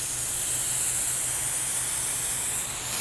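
A pressure washer sprays water to the side during a pressure-washing demonstration, making a loud, steady, broad hiss that continues unbroken and up close.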